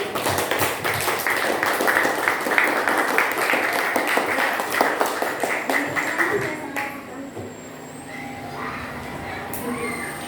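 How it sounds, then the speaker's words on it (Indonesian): A room full of people claps steadily for several seconds, then the applause fades out, leaving faint background noise and a few scattered sounds. "tepuk tangan untuk kita semuanya"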